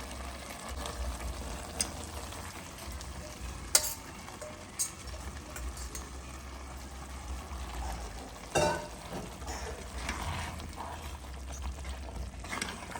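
Basmati rice frying in a pan, heard as a soft continuous sizzle with scattered stirring scrapes and a couple of sharper knocks against the pan.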